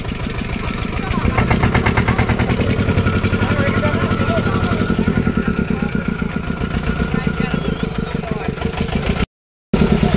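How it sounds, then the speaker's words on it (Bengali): A boat's engine cranks and catches on a river crossing, then runs in a loud, steady, rapid chugging rhythm close by, with a brief dropout near the end. "নৌকার জেনারেটর অন করা হচ্ছে"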